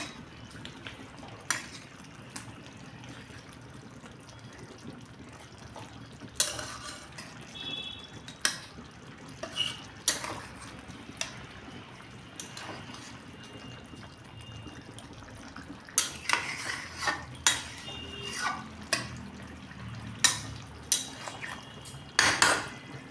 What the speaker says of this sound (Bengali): ভালো করে নাড়ি চাড়িয়ে এটা নামিয়ে নেবো